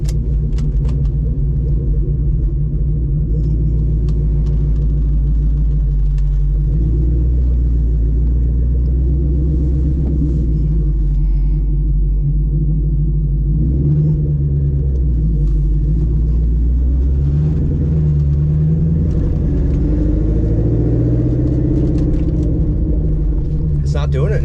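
Ford Mustang engine with a fault, running loud and close as a deep, continuous rumble that rises and falls as it revs up from idle across the whole stretch.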